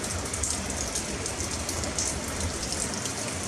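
Heavy rain pouring near the Tugela Falls while abseiling by a cave, a dense continuous hiss of water with steady, unbroken intensity and no voices.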